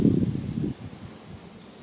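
Wind gusting outdoors in a backyard on a cold, rainy day, a loud low rumble of wind noise across the microphone that drops to a softer, steady blowing partway through.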